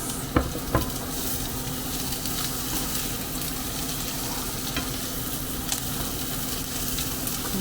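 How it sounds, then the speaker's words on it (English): Peppers going into a hot pan with garlic, a close, steady sizzle and crackle with a couple of sharp knocks early on, no talk. "I'm going to go in with the peppers."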